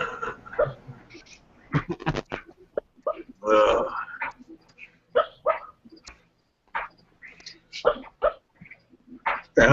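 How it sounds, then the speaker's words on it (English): A sleeping dog gives muffled, irregular woofs and short throaty huffs, scattered in bursts with quiet gaps between them. "That's my dog barking in his sleep."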